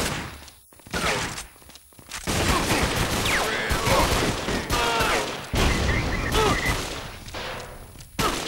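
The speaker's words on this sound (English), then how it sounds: "Cover fire down for me, homie." Sustained gunfire from a 50 Cent PlayStation 2 video game, with dense bursts of rapid shots running almost continuously and loud up close, broken by brief pauses, while game voices talk over the shooting.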